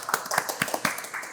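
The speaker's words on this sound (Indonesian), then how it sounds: "Tepuk tangan dong untuk Sihab dan Aryo" A handful of people clap briefly for two student guests on a campus talk show. The claps are quick and irregular, close by and fairly loud, with no talk over them.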